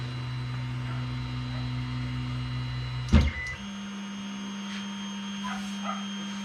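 Creality Ender 5 3D printer auto-homing with no silent stepper board: a steady motor whine and hum runs for about three seconds, then a loud clunk as the axes hit their stops, followed by a quieter lower hum.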